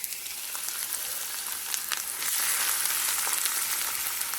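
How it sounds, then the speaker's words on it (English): Chopped onion frying in hot oil for a masala omelette, a bright continuous sizzle that swells a little louder midway, close by and with no voices. "Let the oil heat. Add onions."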